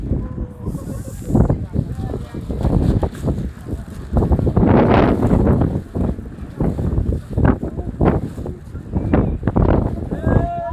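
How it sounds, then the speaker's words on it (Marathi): Strong wind roars and buffets the microphone in thick fog while climbing toward Kedarnath, a steady loud rush with gusty surges, and someone speaks over it throughout. "जोरात हवा आलेली आहे"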